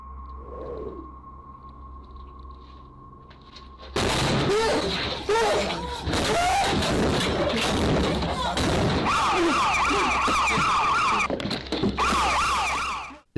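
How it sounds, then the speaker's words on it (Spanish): A panic button alarm siren sounds steadily in the background, under loud, irregular thumps and bangs that begin abruptly after a quieter opening with a faint hum. "La sirena que se escucha al fondo es un botón de pánico."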